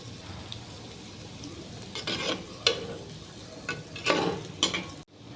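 Potatoes and peas being fried and stirred in a pan: irregular scraping and clattering strokes over a soft sizzle, louder in the second half, close by, no talking.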